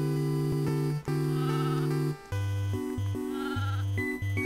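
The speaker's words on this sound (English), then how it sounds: "There's a sheep." Cartoonish sheep bleat from the Nintendo DS game Final Fantasy: 4 Heroes of Light, set against steady synthesized game music with stepping note patterns, loud and continuous for a few seconds.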